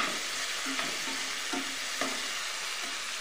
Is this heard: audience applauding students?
no